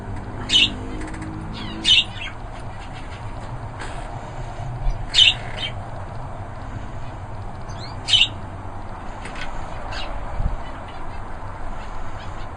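A red factor canary sings in an aviary, short bright chirping phrases recurring every second or two over a steady low background hum.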